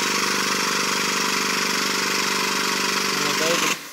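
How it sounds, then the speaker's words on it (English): A bulldozer engine runs steadily at a constant mid-pitched drone, worked by a foot pedal, loud and close throughout before it cuts off abruptly near the end. "and the dozer starts to tighten"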